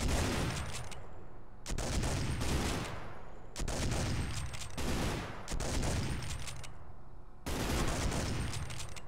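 Gunfire in the colony game Rimworld: four loud bursts of rapid shots, each lasting one to two seconds, separated by brief lulls, dense and close with no talk over them.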